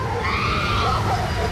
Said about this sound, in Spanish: Los gritos de esta mujer